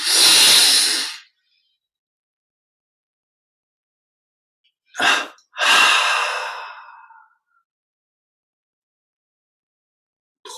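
Deep breaths during a French guided meditation: one long inhale-exhale at the start, then after a quiet pause a short sniff followed by a longer breath, close and soft with no talking.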